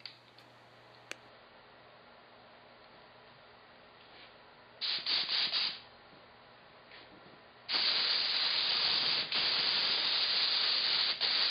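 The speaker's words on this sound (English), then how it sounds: "Got my air hose here and spray." Air spray gun fed by an air hose spraying mixed pink paint onto a Ms. Pac-Man arcade cabinet stencil: a short hissing burst midway, then a long steady loud spray hiss to the end, no talking.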